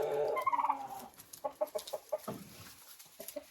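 Hens cluck in short, evenly spaced calls near a nest, with a rooster among them. The calls are close and moderately loud, and a few drawn-out vocal notes open the sequence.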